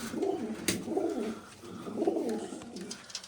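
A pigeon coos softly in repeated low, rolling phrases, roughly three swells close by and faint, with a brief click between and no talk.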